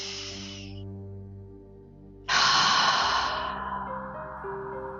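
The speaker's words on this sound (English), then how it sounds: "long, gentle exhale through the mouth." A long, gentle breath let out through the mouth during a calm breathwork session, soft and airy, drawn out for a few seconds over faint background tones.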